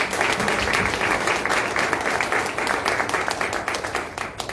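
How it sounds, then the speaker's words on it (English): An audience at the Indiantown candidate forum applauds the candidates, a steady, loud wash of many hands clapping that holds evenly throughout, with a few voices underneath. "Let's give them a big round of applause."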